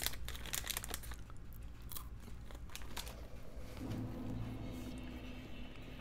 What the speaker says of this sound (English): I apologize if you're hearing crunching, by the way. I'm eating a Kit Kat.